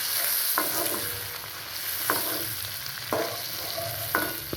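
Shrimp fry lightly in oil in a pan with a constant sizzle, and four sharp scraping stir strokes come at roughly one-second intervals as the pieces are turned and lifted out. Close and clear, with no talking.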